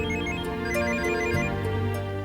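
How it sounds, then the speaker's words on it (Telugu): A household phone rings with a steady electronic melodic ringtone, loud and close, sounding alone throughout. "ఇదిగో ఇంటి నుంచే ఫోన్."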